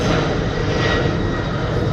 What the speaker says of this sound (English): So that is going to be our airplane.